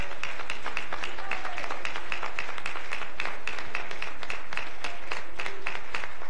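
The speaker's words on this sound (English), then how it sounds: "Give the Lord a great hand clap of praise." Congregation in a church clapping hands in praise, a steady crackle of many hands sustained throughout, moderately loud and without voices over it.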